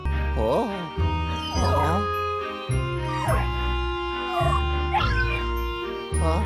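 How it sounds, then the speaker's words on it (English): Cartoonish dog barks and soft whimpers from a ghost dog in the video game Luigi's Mansion: Dark Moon, repeated in short bursts over steady game music, with someone talking. "Come here, doggy."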